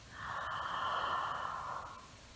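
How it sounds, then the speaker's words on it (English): A single long, deep inhale during a guided meditation, a smooth airy breath that swells and fades over about two seconds, close and alone without talk. "breathing in"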